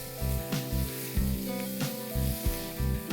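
Finely chopped onions and tomato with turmeric sizzling in a pan, a steady frying hiss broken by rhythmic scraping strokes of a spatula stirring, close and moderately loud.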